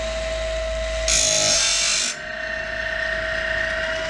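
A GrindLux 4000 sharpener grinds the tip of a woodworking bandsaw blade tooth to a custom 8.5-degree angle: a steady motor whine with a bright, harsh scraping grind lasting about a second, then the motor hum alone.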